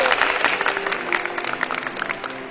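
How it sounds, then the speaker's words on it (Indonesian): A church audience claps for a nun, a brisk burst of many hands close by that thins out over a couple of seconds, with scattered voices under it. "tepuk tangan boleh"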